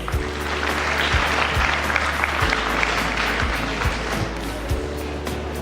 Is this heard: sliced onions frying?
no